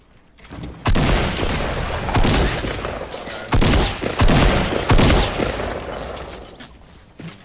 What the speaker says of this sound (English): Somebody shooting me from the west.